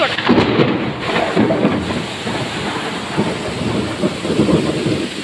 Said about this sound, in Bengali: ঘরের দরজার সামনে দাঁড়িয়ে কি জোর বৃষ্টিটা হচ্ছে দেখুন